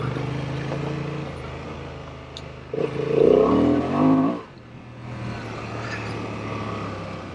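Heavy adventure motorcycle engine under way, a steady low drone that swells into a louder rising rev for a couple of seconds, then settles back to a cruising hum with wind noise.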